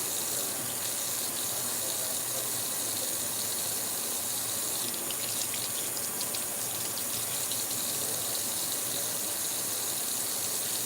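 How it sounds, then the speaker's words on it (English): Tap water runs continuously into a sink as food is rinsed, a steady close gushing hiss with no talking. "Let me rinse it off first."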